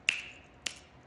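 Two crisp finger snaps, the first sharper and louder, the second about half a second later, close and alone in a quiet room.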